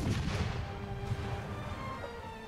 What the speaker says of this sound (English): Fire cannon one. Fire cannon two.